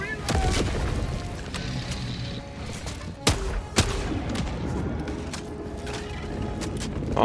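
Grenade launcher blasts and gunfire in Helldivers on a hive world, dense continuous combat noise with two sharp booming hits standing out midway, loud and close.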